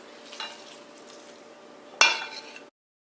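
A spoon scrapes and swishes through a sabudana khichdi mixture of tapioca pearls and peanuts in a bowl, close and fairly quiet, ending with a sharper clink against the side.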